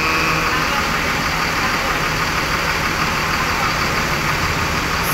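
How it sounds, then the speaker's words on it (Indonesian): A coach bus engine idles steadily at close range, a constant low rumble with no pauses. "mesin dari bis ALS Novin 246 sudah dinyalakan"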